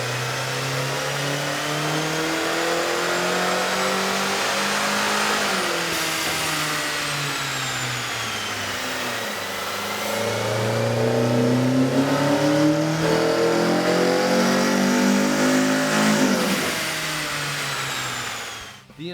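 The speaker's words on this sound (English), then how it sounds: "we ran the vehicle on the dyno to test the sound comparison versus the stock intake" A 2010 Kia Forte 2.0L engine fitted with a K&N air intake runs on a dyno, its loud droning note sweeping up and down through long, smooth rev climbs and drops before cutting off at the end.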